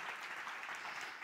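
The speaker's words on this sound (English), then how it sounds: "So can you, again, give them a warm round of applause?" A church congregation claps in warm, steady applause, a dense wash of hands that holds level from start to finish with no voices standing out.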